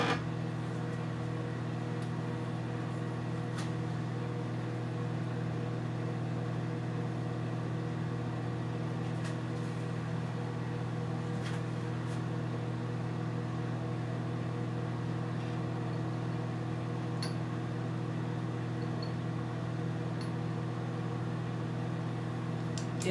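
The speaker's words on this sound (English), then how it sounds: "let me turn off the microwave" A microwave oven runs indoors during home lotion making, giving a steady low mechanical hum with a constant drone and a few faint clicks, unbroken and without talking.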